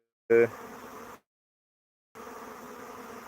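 Honeybees buzz at a hive entrance in a steady, close drone that cuts out for about a second of silence and then returns at the same level.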